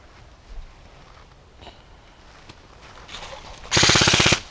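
An airsoft pistol fires a rapid burst of sharp, loud shots near the end, preceded by faint clicks and handling noise on a quiet outdoor field.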